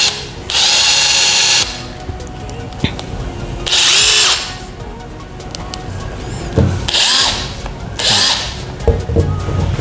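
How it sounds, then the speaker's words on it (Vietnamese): A Makita TW004G 40V cordless impact wrench hammers in loud bursts as it loosens a bolt, four sharp rattling runs separated by quieter pauses with scattered handling clicks. "máy sẽ lấy lỏng con ốc và dừng lại."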